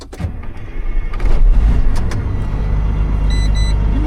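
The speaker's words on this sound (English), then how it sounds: "Then you're going to start the vehicle." A truck's diesel engine being started during a CDL air brake test: it cranks briefly, catches, and settles into a steady, loud, low idle rumble inside the cab, with faint electronic chimes from the dash near the end.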